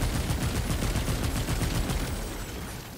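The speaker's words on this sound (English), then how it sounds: "Let me check out this cube gun." Rapid, steady gunfire from the cube gun, a weapon in the video game Remnant 2, runs as a dense, continuous volley of shots throughout and tapers slightly toward the end.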